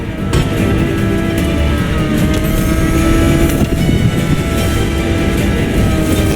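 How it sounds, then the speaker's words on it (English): A Ferrari supercar engine heard from the cabin in the video game The Crew Motorfest, a loud, steady, sustained engine roar with strong harmonic drone and no talking. "And the car's voice sounds even better from inside."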